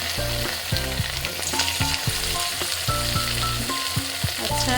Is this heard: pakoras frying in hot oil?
yes